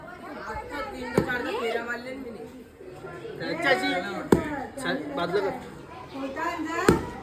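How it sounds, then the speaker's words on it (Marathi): Three sharp, loud chops strike a coconut at spaced intervals while several people chat and laugh nearby during Ganesh festival celebrations. "इथे नारळ कापतोय नारळ"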